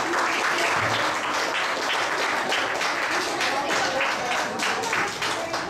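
Audience at a school mini annual day event applauding a mentor, steady dense clapping from many hands filling the room without pause.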